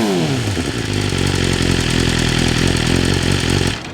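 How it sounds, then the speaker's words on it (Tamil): A 1000cc inline-four motorcycle with a full titanium exhaust revs hard and loud at close range, a raspy sustained howl that holds for several seconds before cutting off abruptly. "இது வந்து ஃபுல் டைட்டானியம் எக்ஸாஸ்ட்."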